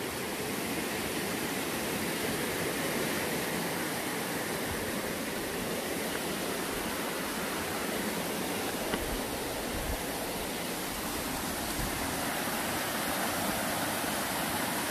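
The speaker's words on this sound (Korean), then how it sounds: "잠룡 폭포." Jamryong waterfall, a deep plunge pool more than 3 m deep, gives a loud, steady rush of falling water that holds constant throughout with no voices over it.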